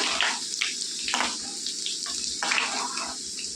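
Crushed garlic fries in hot oil with a loud, continuous watery hiss that surges in a few pulses, close and steady with no talking.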